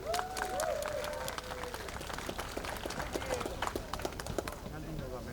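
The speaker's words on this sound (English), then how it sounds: "Another round of applause, please, for the sheriff." A rally crowd applauds with continuous clapping and scattered cheers for several seconds, while a voice speaks over it.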